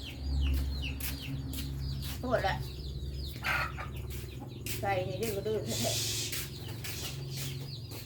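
Chickens on a farm cluck and call in short bursts, with a rooster-like squawk now and then. Someone talks over them, and a low hum runs underneath.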